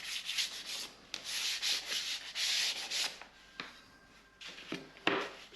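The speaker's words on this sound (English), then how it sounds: "Does that sound really loud to you guys, like the sanding?" Hand sanding of wooden pantry shelves produces close, scratchy back-and-forth strokes in bursts, with brief pauses and a light knock near the end.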